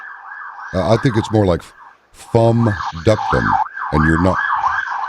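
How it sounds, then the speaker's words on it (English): Wailing emergency sirens rise and fall continuously in the background while someone talks over them up close. "Sorry about the sirens here."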